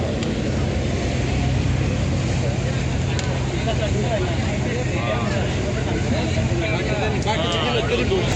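Motorboat ride out to Elephanta Island near Mumbai, a steady loud engine drone with water wash underneath, people talking over it throughout.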